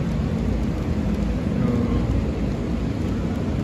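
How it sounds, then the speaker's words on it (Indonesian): Steady, dense rain falls outside a hotel balcony overlooking a swimming pool at a hotel in Cibinong, a loud constant hiss and patter with no pauses. "Oh, udah hujan ya."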